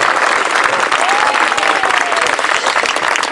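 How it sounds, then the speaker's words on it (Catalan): A crowd gives loud sustained applause for a band at Lledoners prison, thick continuous clapping with a few cheers rising above it. "Un fort aplaudiment per ells, sisplau."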